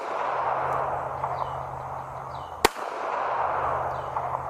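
A single sharp .380 pistol shot fired outdoors at a target, one loud crack standing out over a steady background hiss with faint birdsong.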